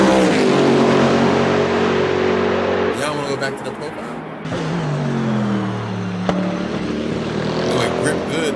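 A Mercedes-AMG V8 with a big Brembo brake setup revs loudly and close, rising and falling through several pulls and passing into cruising, while someone talks over the engine note.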